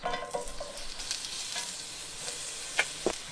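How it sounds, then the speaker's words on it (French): Onions fry in a little oil on a hot plancha with a low, steady sizzle, broken by a few sharp clicks and pops near the end. "Donc on met un petit peu d'huile comme ça. Et je fais revenir les oignons."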